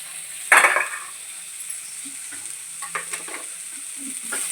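Spiced potatoes are stir-fried in a pan, a burst of sizzling at the start settling into a softer hiss with scattered scrapes and light clinks of a utensil, close and moderately loud, no speech.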